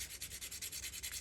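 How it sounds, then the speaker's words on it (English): A sanding block rubs the end of a wooden toothpick in quick, even back-and-forth strokes, a soft scratchy rasp repeating about ten times, close and quiet. "If you end up with a raggy edge, just get your sanding block and"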